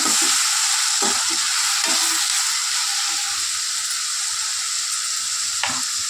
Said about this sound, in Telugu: వంకాయలు వేసుకున్న తర్వాత ఇలా నీట్గా కలిపేసుకోవాలి